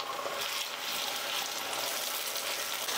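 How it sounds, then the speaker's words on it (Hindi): Ginger garlic paste with slit green chillies frying in a pan, an even, fairly faint hiss of sizzling that runs without pause, no voices. "अदरक लहसुन डालने के बाद हम एक मिनट और अच्छे से भून लेंगे।"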